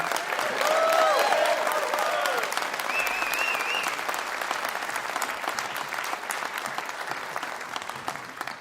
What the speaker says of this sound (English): Another big round of applause for my buddy Anson.